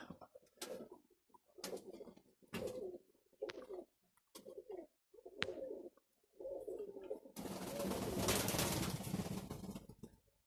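Domestic pigeons, two pairs of breeding birds, cooing in a loft: a series of about seven soft, close coos with short pauses between them, ending in a burst of broad rustling or wing flapping.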